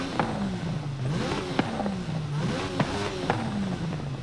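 The Mercedes-AMG One hybrid hypercar revving in Forza Horizon 5, its engine note rising and falling in repeated blips with sharp clicks between them, loud and close with no talk.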